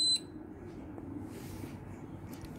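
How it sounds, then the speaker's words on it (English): A small homemade conductor tester, built on a piece of cardboard, sounds its buzzer in one short, sharp beep at the very start, followed by quiet room hiss. "when we connect these two negative wires, the buzzer is making sound."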